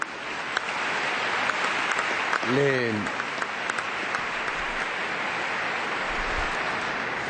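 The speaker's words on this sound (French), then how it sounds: "On peut les applaudir." Applause for the choir fills a church during a solemn Assumption Mass, a steady broadband clatter of many hands sustained throughout, with a voice breaking in briefly midway.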